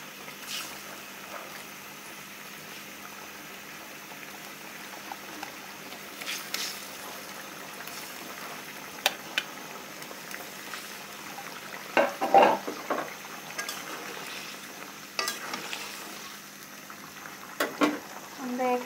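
Chicken and cauliflower kofta curry simmers and bubbles in a pot as koftas are added, producing soft, uneven plops and splashes over a steady low boil.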